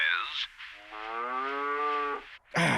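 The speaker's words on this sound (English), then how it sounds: "A cow says..." A cow moos once in a long, steady, close tonal call that holds and then cuts off, set between short bursts of a human voice speaking.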